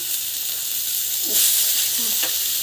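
Onion, tomato, coriander and mint sauté in a pan with a steady, close sizzle and a brief stirring swell partway through.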